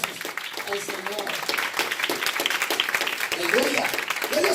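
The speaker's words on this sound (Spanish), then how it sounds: "Denle trompeta de aplausos al Señor" A church congregation claps continuously in a sustained round of applause, dense and even, with voices calling out and talking over the clapping throughout.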